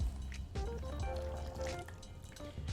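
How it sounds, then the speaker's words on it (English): Water pours into a cold brew maker with coffee grounds at the bottom, giving close gurgling and trickling with bubbly splashes that rise in pitch as the container fills. "pour some water in there."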